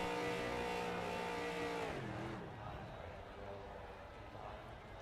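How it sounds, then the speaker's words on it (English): A simulated race car in the iRacing game does burnouts on a short track: loud, sustained engine revving with steady harmonic tones that drop in pitch partway through, easing to a rougher, lower roar, with commentators talking over it. "we're going to look at Landon as he does some burnouts."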